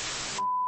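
A burst of static noise cuts off into a single clean, steady electronic notification beep that holds briefly before stopping.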